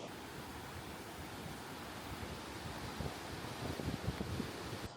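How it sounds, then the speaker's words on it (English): A river rushing past with a small waterfall on a rainy day, a faint, steady broadband wash of flowing water that swells slightly toward the end, with no voices. "Well, I found my daily dose of flowing water. The River of Man's here. Got a bit of a waterfall there as well."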